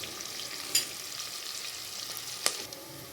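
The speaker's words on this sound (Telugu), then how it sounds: "కొంచెం సాల్ట్ వేసుకుంటే ఉల్లిగడ్డ తొందరగా వేగిపోతుంది." Onion frying with salt in a pan for tomato basmati rice, a steady soft sizzle running throughout, with two sharp clinks or scrapes punctuating it.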